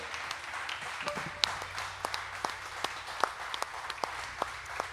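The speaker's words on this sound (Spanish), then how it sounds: "Dale el aplauso al Rey." A church congregation claps during a Spanish-language worship service: scattered, sharp, irregular claps, fairly faint, over a low steady background hum.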